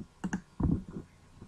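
A computer mouse clicks a Next button while teacher photos are uploaded to a website, a few quick soft clicks close by in a quiet room.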